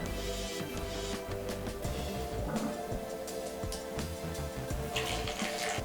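Tap water runs and splashes steadily as a mini washing machine tub is refilled, a continuous close pour with faint clinks and no talking.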